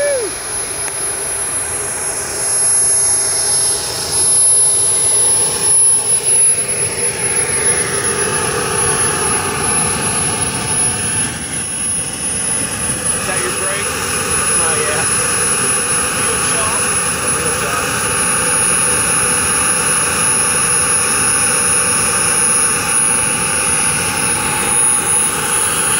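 An HSD Super Viper RC turbine jet engine runs steadily with a loud, close whine and roar that holds throughout, with rising tonal sweeps in the upper range and voices talking over it.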